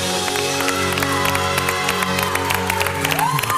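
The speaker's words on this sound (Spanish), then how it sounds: "Que darle su aplauso." Audience applause and cheering during a televised singing competition performance, a crowd wash layered over sustained musical tones, with scattered claps standing out.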